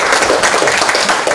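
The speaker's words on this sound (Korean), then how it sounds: "큰 박수 부탁드리겠습니다." A lecture audience applauds after a special talk at a workshop, a dense, steady patter of clapping that continues evenly for the whole short stretch without voices.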